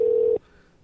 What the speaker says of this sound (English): Here, I'm making a phone call.